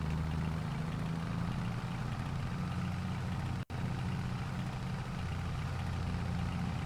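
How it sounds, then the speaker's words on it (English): A tractor in Farming Simulator 22, older Eastern European style farm equipment, idles with a steady low engine rumble that runs unbroken except for a brief dropout. "I really like this tractor."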